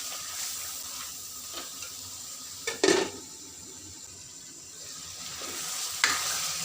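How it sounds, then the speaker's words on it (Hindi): Pakoras frying and being stirred in a masala gravy for a pakora salan, a steady soft sizzle with a few louder stirring scrapes and clatters near the middle and end, no voices. "अब हम इसके अंदर अपने पकौड़े ऐड कर देंगे। ऐड करके हम तकरीबन 5-7 मिनट के लिए इन्हें भून लेंगे।"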